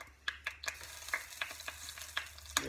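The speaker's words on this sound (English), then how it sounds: "I want a good sear on that steak." Steak searing on high heat in hot oil with garlic and onion, a steady close sizzle broken by short crackling pops and stirring clatters, no talk.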